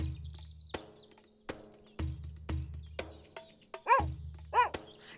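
A dog barks and yips a few times amid brief high chirps, with sharp clicking noises scattered throughout, moderately near, the dog having cornered an animal up a tree.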